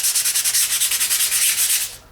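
Sandpaper rubs over drilled wood to remove fuzz on a shooting board build: a rapid, even series of close back-and-forth scratching strokes that stops abruptly near the end.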